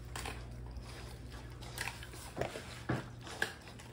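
Two five-month-old Rottweiler puppies chew and crunch on duck feet, with soft wet gnawing and a few sharper crunches near and moderately loud against steady low background hum.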